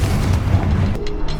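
A blasting-spell explosion in a Hogwarts video game, a loud sustained booming rumble with crackling bursts that settles into a few quieter pops.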